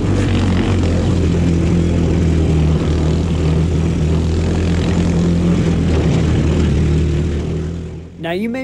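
A small Amazon mini Jeep engine drones steadily and loudly in low gear while climbing a Colorado backcountry mountain trail, with a constant buzzing hum close to the microphone that eases off near the end.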